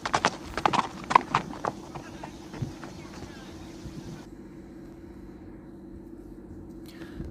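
Horse hooves clop in a quick irregular run, loud at first and then thinning out under steady wind-like noise, with a brief high sound at the very end.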